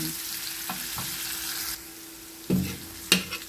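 Garlic and onion sauté in a pan with a light continuous sizzle, broken by a few sharp scrapes and clacks of a utensil stirring near the end.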